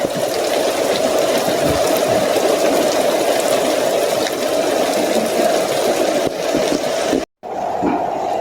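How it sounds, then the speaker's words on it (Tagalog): Heavy rain pours steadily as a loud, dense, continuous hiss and drumming close by, broken by one brief dropout near the end. "Grabing kusog ng ulan"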